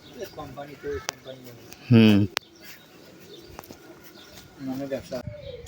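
Doves coo at the Nilsagar park in Kishoreganj, Nilphamari, in soft rhythmic calls, one louder burst midway, alongside chirps and other bird sounds nearby.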